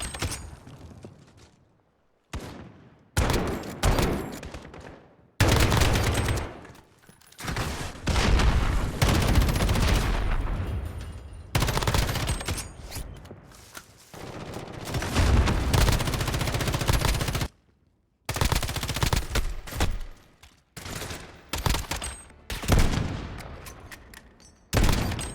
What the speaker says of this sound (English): The guns sound so powerful and heavy, and actually feels like you have some weight to the guns with the added recoil as well